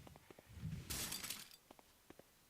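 Glass shatters in a window in the Resident Evil HD remake, a loud broadband crash of about half a second followed by a few faint tinkling fragments and scattered small impacts.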